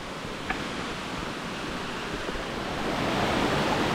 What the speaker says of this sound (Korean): 등산로를 따라서 계속 물이 흘러가네요. 시원한 물소리가 듣기 좋습니다.